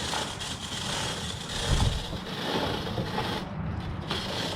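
A grunge brush scrubs a motorcycle chain being turned, producing close, steady scratchy brushing with clicking, ratchet-like mechanical ticks of the rolling links.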